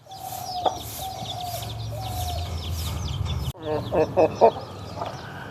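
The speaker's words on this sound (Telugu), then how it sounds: "ఇవి నార్మల్ పెట్టలండి" Hens cluck in short, repeated calls that are close and fairly clear, with a quick burst of louder clucks near the end over a low background murmur.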